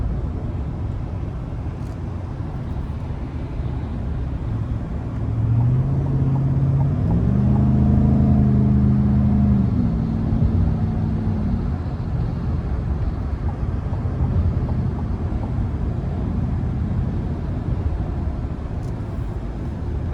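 A 2024 GMC Sierra 1500 AT4 with a 6.2 liter V8 and active exhaust driving in traffic, its steady cabin engine drone rising through a climbing tone midway before settling back to a constant road rumble.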